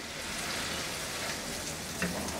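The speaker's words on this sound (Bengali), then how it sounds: "আমি এগুলোকে আমার পছন্দ মতো একটু বাদামি করে ভেজে নিব আর কি।" Thin pieces of chicken for doner kebab fry in oil with a soft, steady sizzle and a faint clink near the end.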